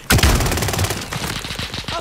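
Rapid bursts of automatic gunfire in a multiplayer shooter video game, loud and close, with dense repeated shots continuing throughout and a voice briefly audible underneath.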